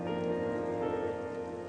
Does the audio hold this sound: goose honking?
no